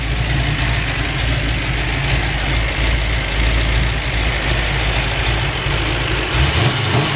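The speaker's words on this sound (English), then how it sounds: "You can hear those roller rockers." A 1951 Chevrolet 3100 pickup's engine idles steadily with the hood open, a low, even rumble that holds for the whole stretch, with the light ticking of its roller rockers riding faintly on top.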